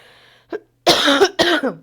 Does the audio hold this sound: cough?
yes